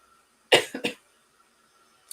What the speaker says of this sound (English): When I talk a lot, I start coughing.